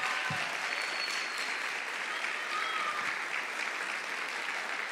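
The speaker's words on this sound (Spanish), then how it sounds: "Vamos a darle un aplauso." An audience at a church gathering gives sustained applause, a dense, steady wash of many hands clapping at moderate distance that holds for several seconds without speech.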